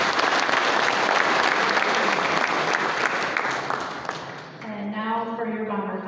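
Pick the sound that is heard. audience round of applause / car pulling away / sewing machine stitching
audience round of applause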